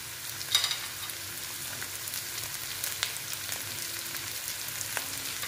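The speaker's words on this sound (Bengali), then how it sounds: "দিয়ে আবার এটাকে ভেজে নিচ্ছি।" Chopped ginger and capsicum fry for paneer bharta, a quiet steady sizzle with a few light spoon scrapes and clicks against the pan and no voices.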